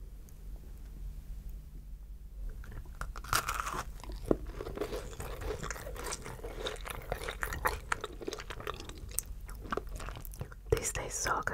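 Macarons being bitten and chewed up close, with soft crunches and moist chewing sounds repeating steadily, some faint whispering mixed in.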